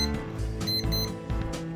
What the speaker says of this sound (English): when the alarm is on and the red arm passes that section, it beeps